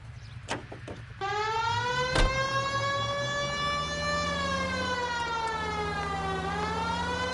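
A loud, continuous police siren from the L.A. Noire video game wails steadily with a slow rising and falling pitch. A few sharp thumps come just before it and one sharp hit lands partway through.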